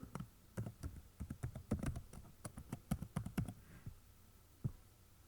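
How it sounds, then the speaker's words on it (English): Password being typed on a computer keyboard: a quick run of about twenty close, crisp key clicks in uneven bursts, pausing near the end before one last tap. "I will log in here first. I will type here password."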